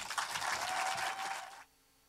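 Applause from a film screening audience greeting the Q&A panelists, a dense steady patter of many hands at close range that stops abruptly near the end, leaving quiet room tone.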